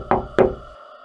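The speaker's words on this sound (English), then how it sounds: "Then he knocked on my window." Two heavy, deliberate knocks on a car window, a solid thud-thud spaced about a quarter second apart, close and loud with a short ringing decay and no voices.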